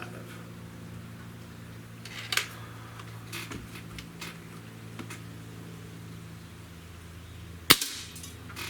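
A Cometa 94 breakbarrel air rifle fires a single shot at a 20-yard target, heard as a sharp crack near the end over a steady low hum, with a fainter click earlier.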